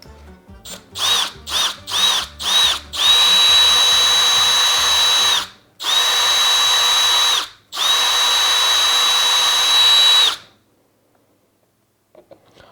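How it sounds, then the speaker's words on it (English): A power drill whirs in several short bursts, then runs in three long sustained runs with brief pauses, loud and close, as it strains to drill through a hard wall, before stopping into near silence. "Why is that so difficult to drill through?"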